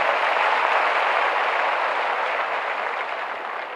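Steady, loud applause from a large audience fills a ceremony hall as newly appointed Bihar Police constables receive their appointment letters, the dense clapping holding evenly and easing only slightly toward the end.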